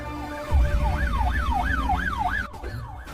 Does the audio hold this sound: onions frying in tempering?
no